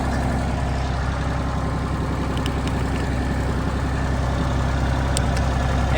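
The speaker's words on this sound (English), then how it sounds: "push the clutch in, put it in high, first gear, and then we throttle it up" Tractor engine powering a fertilizer spreader, a steady loud diesel drone running continuously without a clear change in pitch.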